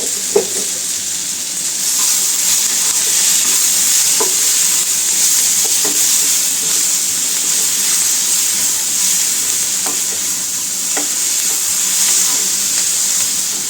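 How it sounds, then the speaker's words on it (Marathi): Masala and coriander powder are stirred and fried together in a pan, giving a steady close sizzle and hiss. Occasional scraping strokes of the spoon come through, and no one speaks. "मसाला धना पावडर सगळ्यांना मिक्स करते"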